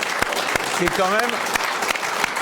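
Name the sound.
studio audience applause for the TV show's teams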